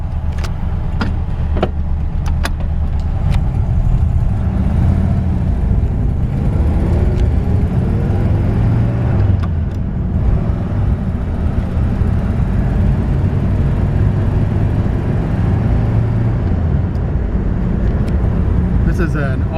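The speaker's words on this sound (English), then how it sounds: "with a 1954 Mercury Monterey. I'm going to take her for a quick spin." A 1954 Mercury Monterey, all original with about 87,000 miles and running slightly cold, drives along with a steady low engine rumble and road noise throughout, loud and close, with talking over it.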